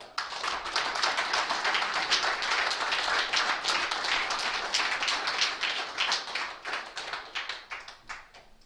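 An audience claps for Lauren in a steady, moderately distant round of applause that holds strong for several seconds, then thins out and fades toward the end, with no talking over it.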